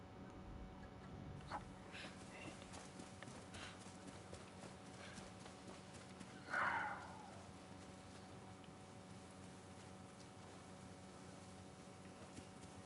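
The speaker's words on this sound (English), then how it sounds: "I see these horses out here." Horses in a video game walk with a steady, soft clip-clop under faint game ambience, and one short whinny rises clearly about halfway through.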